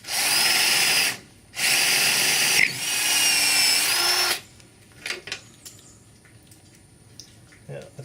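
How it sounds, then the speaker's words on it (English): Power drill boring through aluminium inside a boat's swing keel, loud steady whine in two bursts with a short pause between, then stopping, followed by quieter scattered knocks and handling sounds. "I don't know what I'm about to drill through"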